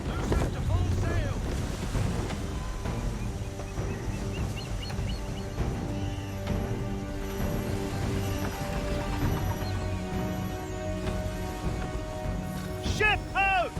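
A sailing ship under full sail in Assassin's Creed 3 surges over the sea, with steady wind and wave wash and creaking rigging beneath a layer of tonal game music, plus a brief fluttering sweep near the end.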